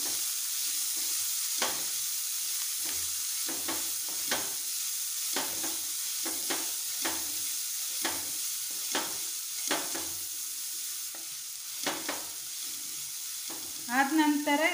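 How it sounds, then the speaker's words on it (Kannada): Onion frying lightly in a pan for a soup, a steady hiss under regular, spaced stirring taps and scrapes, with a brief burst of louder crackle at the very end. "ಅದಕ್ಕೆ ನೀರುಳ್ಳಿ, ಒಂದು ಸಣ್ಣ ನೀರು ಈರುಳ್ಳಿಯನ್ನು ಹಾಕಬೇಕು. ಹಾಕಿ ಸ್ವಲ್ಪ ಫ್ರೈ ಮಾಡಬೇಕು."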